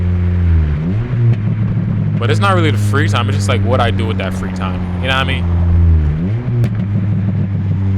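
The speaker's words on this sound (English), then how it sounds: "Woo, this car sounded good." A Honda K24 engine car's exhaust drones while driving, rising in pitch under acceleration and then settling back, heard inside the cabin beneath continuous casual talk.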